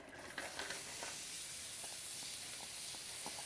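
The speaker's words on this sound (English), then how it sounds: "fry it up until it gets a little translucent, which is about 4 to 5 minutes" Chopped onions sizzle in hot avocado oil in a pan, a steady close hiss broken by small crackles and pops, with no talking.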